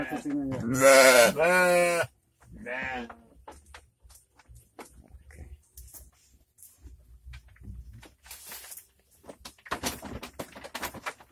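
Goats in a traditional pen kept for Qurban, one giving a loud, close, wavering bleat and then a shorter second call, followed by quieter rustling and faint knocks.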